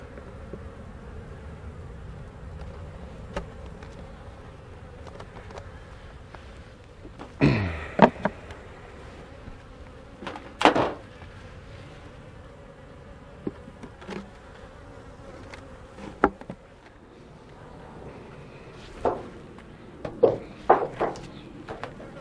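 A small swarm of bees buzzes softly and steadily around a hive, with occasional louder close passes and faint bird coos in the background, with no talking.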